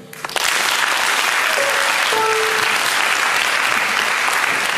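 Sustained audience applause fills a concert hall at a formal anniversary celebration, a dense, steady clapping that swells in quickly and holds at full strength throughout.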